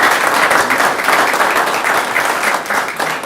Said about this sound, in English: I think we all need to give you applause here